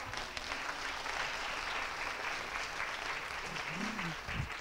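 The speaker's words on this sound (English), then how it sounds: "Give her a round of applause." Audience applause at a women's negotiation workshop, steady sustained clapping from a room of people lasting several seconds, with a faint voice near the end.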